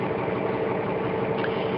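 A truck engine idling steadily with a constant mid-low rumble and even vibration, loud and close, no starting or revving audible.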